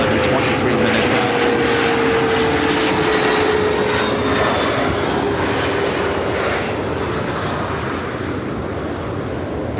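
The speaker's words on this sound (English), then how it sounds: "Again, this is the Austrian Plane Jane Dreamliner." An Austrian Airlines Boeing 787 Dreamliner at Chicago O'Hare produces a loud, continuous jet engine roar with a slowly falling whine, steady and close for the whole stretch, with no talk.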